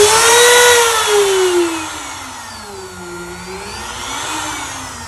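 A CNC router on a plasma metal table runs loudly up close, a strong whirring motor whine that drifts up and down in pitch as it works, with no talking over it.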